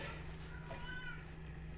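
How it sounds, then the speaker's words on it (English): A cat meows faintly in the background over a steady electrical hum, with a drawn-out, wavering cry near the middle. "sorry about my cat in the background."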